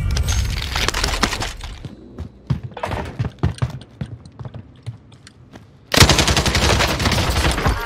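Rapid bursts of automatic gunfire in the Warzone video game, loud and dense rattling volleys with a pause in the middle before a sustained close barrage resumes at the end.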